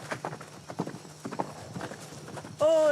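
Horse hooves clip-clopping on a ranch in New Caledonia, a run of irregular hoof knocks with a sustained whistle or whinny-like tone at the very end.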